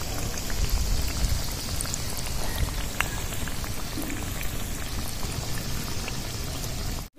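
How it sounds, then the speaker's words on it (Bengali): Wheat flour biscuits deep fry in hot oil at low to medium heat, a steady, dense sizzle and bubbling crackle that continues without a break, close and fairly loud. "বিস্কুট ভাজার সময় আপনারা লো টু মিডিয়ামে বিস্কুটগুলো ভাজবেন"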